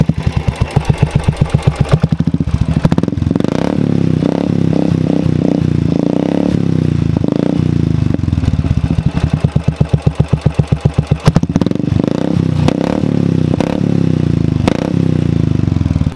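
Royal Enfield Thunderbird 350X single-cylinder motorcycle with an aftermarket silencer, idling loud and close with a steady deep thump, broken by a few sharp throttle blips near the start and again partway through.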